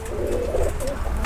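A Chuha breed pigeon gives a short, close, soft throaty coo, alone and clear.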